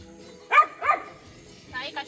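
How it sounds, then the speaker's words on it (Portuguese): A female dog gives two sharp barks close by, followed a moment later by a couple of higher yips, in a riverside community in the Amazon. "É uma cachorra."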